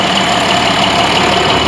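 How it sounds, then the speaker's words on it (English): A John Deere 4430 tractor engine idles with a steady, loud, close diesel rumble, unchanging throughout the brief stretch with no speech. "I'll probably shut the tractor down here for a second."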